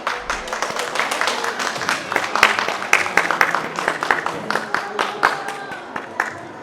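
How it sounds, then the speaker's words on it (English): Dense clapping from an audience at a community BBQ celebration, a steady, close patter of many hands sustained throughout with a few scattered louder claps. "Can we get another round of applause for them, please?"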